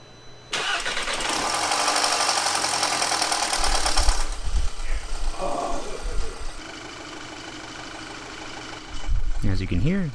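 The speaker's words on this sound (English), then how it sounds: "As you can hear, the engine sounds really good now" An Audi A3 engine runs steadily after startup oil lubrication, a busy mid-pitched mechanical hum that eases off partway through and then surges again near the end, with voices talking over parts of it.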